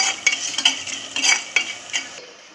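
Onions and dry prawns frying in a pan for an Andhra-style yam and egg curry, with a close crackling sizzle and repeated stirring scrapes that fade at the end.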